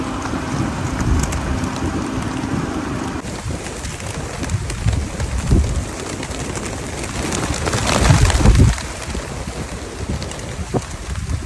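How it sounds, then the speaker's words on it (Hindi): Pigeons in Mecca gather to eat scattered chickpeas, with soft cooing and fluttering heard against strong wind buffeting the microphone and a rush of wings partway through. "चने को देख के बहुत शौक से आते हैं कबूतर।"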